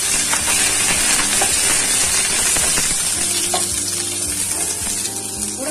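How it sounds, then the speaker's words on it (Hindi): Large pieces of boiled potato fry in hot oil, giving a loud, close sizzle with crackling pops and the scrape of stirring, continuous with no voices. "इसे भी आप इसमें डाल दीजिए हल्का सा रोस्ट कर दीजिए।"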